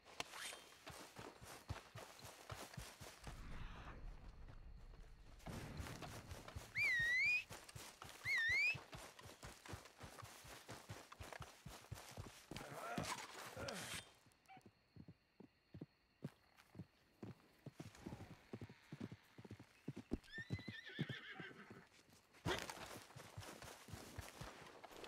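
Horse in the video game Red Dead Online, rhythmic hoofbeats in runs of clip-clops with pauses, and a couple of short high neighs or whinnies.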